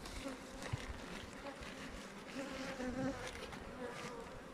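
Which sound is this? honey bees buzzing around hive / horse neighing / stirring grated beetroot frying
honey bees buzzing around hive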